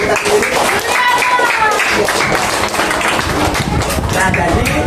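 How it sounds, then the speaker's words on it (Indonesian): A school class clapping for themselves, dense rapid clapping from many hands at close range with voices mixed in throughout. "Tepuk tangan untuk diri kita sendiri."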